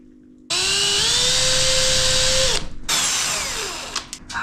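A power drill boring a 3.5 mm hole into aluminium sheet fixed over a metal wall stud, close and loud: the motor whines up sharply, grinds steadily for about two seconds, stops briefly, then restarts and winds down.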